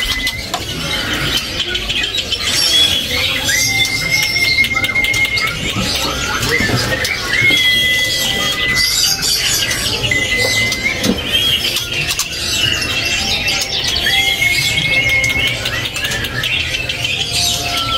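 Male spotted magpie robin (murai trotol) singing at a bird market kiosk, repeated clear whistled phrases and squeaky chirps, loud and close, over a busy background of other birds' chatter.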